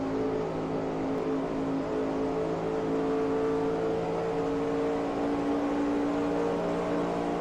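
A race car engine holds a steady, loud drone on track during the 1960 World 600, running continuously with no letup and no audible talk.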